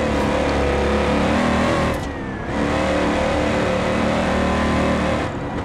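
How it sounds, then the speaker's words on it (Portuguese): Ford Mustang engine in BeamNG.Drive revving hard and accelerating, a loud, close, steady roar that dips briefly at a gear shift around the two-second mark and again near the end, no talk over it. "O carro puxa pra caramba."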